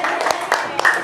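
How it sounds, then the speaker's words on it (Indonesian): Children clap their hands together in a classroom, a brief burst of claps under and between a teacher's talking. "Tepuk tangan untuk semuanya."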